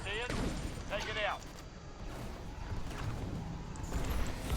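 TIE fighter in a Star Wars space combat game firing its weapons, a few short laser-like bursts and rapid blasts over a background rumble of engine and game sound, fairly close.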